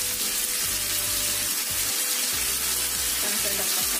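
Asparagus in oyster sauce with soy sauce and pepper, sizzling steadily in a pan while being stirred, with a continuous close frying hiss and faint scraping under it.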